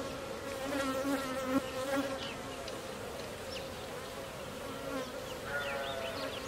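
Honeybees buzzing steadily at a beekeeping farm in Afghanistan, a dense continuous hum of many insects with individual bees droning closer and passing by, no talk.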